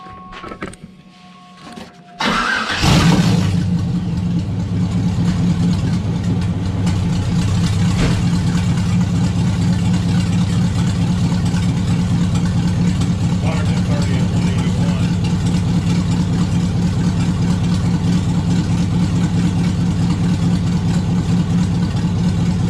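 A turbocharged LS V8 in a Camaro starts after a brief clatter and settles into a loud, steady idle with a deep, even drone that continues without a break.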